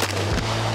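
A single firearm shot is fired on a range, a loud, close blast whose boom fills the short moment.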